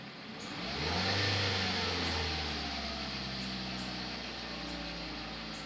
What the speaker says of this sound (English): if I were to tap the gas right now